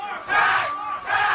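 A crowd at a live show chants a name, two loud surging bursts of many voices in a rhythmic cheer.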